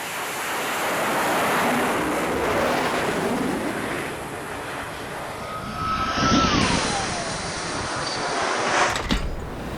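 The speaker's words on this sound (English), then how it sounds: "fighter pilots perform one of the most dramatic and high-stakes operations in naval aviation, the catapult-assisted takeoff" Navy fighter jet making a catapult-assisted takeoff from an aircraft carrier deck: a loud, sustained roar with wind and sea noise, rising into a whining engine sweep near the end, with no voices.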